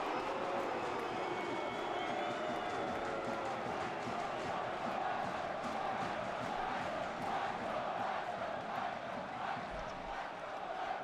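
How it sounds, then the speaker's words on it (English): A football crowd at a Plymouth Argyle v Sunderland match makes a steady, dense stadium roar of cheering and chanting that holds throughout without letting up. "getting the crowd going as well"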